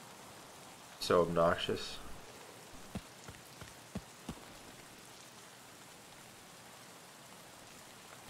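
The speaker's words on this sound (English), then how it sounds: "Starting to rain. I hate the rain in this game." Steady rain falls across the outdoor map in the video game Escape From Tarkov, a soft continuous hiss with scattered sharper drops and ticks, while someone speaks briefly over it near the start.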